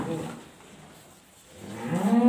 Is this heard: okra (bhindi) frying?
no